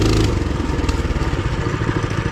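TrailMaster Hurricane 200X dirt bike climbing a hill, its engine running steady and close with a pulsing, rattly drone.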